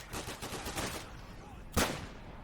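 A Bren light machine gun firing in the video game Day of Infamy, a rapid run of shots at steady rhythm followed by one louder report, over a dense background of game sound.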